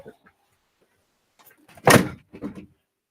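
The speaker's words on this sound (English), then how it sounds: "I'm just going to shut my door." An indoor door is pushed shut: a faint shuffle, then one solid thud followed by a couple of softer knocks as it settles, close by in an otherwise quiet room.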